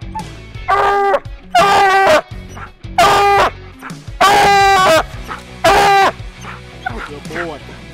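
A coon hunting dog bays loudly at a treed raccoon at the edge of a swamp, five or six long drawn-out barks in a broken rhythm, close by, with quieter yips and chatter between them.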